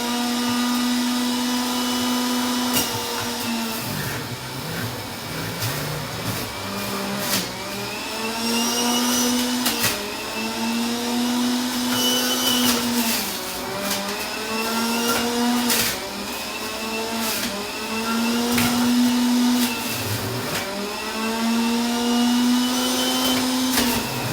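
An electric juicer grinding ginger, a loud sustained motor whine that rises and falls in pitch as the load changes, with rough grinding texture throughout and no voices.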